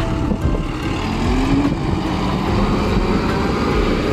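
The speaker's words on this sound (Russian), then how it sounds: "С мульчером Тоскана в паре с трактором Zoomlion" Zoomlion RS-130 Pro tractor paired with a Toscano mulcher with a 2.40 m working width, running near Khadyzhensk in Krasnodar Krai; a steady, loud, continuous engine drone and broadband rumble with no talk.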